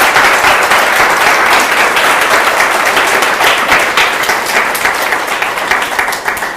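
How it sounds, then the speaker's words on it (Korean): An audience applauds at a church conference, dense sustained clapping from many hands filling the room for several seconds, gradually thinning slightly toward the end. "우리 힘찬 감사와 격려 박수 한번 세게 한번 들어주세요"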